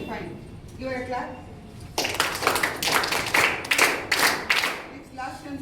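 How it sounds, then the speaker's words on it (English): A classroom of students breaks into a brief round of clapping for a classmate, a burst of close, dense hand claps lasting a few seconds, just after a teacher speaks. "Give her a clap."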